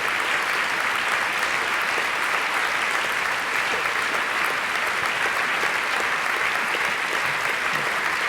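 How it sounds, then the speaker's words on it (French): A theater audience applauds steadily and loudly as the jury walks onto the stage at the Prix de Lausanne 2011 ballet competition finals, a dense continuous wash of clapping with no talk. "on les laisse entrer, vous les applaudissez"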